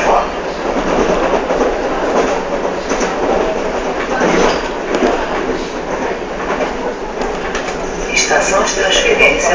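Super Via commuter train in Rio de Janeiro running on rails between Oswaldo Cruz and Engenho de Dentro, a loud steady interior rumble and rattle heard from on board, with a recorded announcement voice over it.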